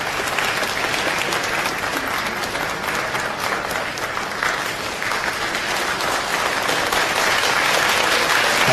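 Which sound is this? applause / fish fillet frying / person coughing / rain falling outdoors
applause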